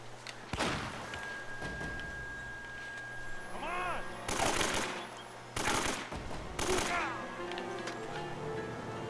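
Bursts of AK rifle fire crack out in Uncharted: Drake's Fortune, loud rapid automatic volleys coming in a few clustered bursts over game background sounds and brief interface tones.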